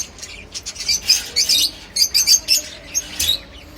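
Lutino red-eye cockatiels giving a series of short, sharp chirps and squawks in quick irregular bursts, fairly close and with no talking.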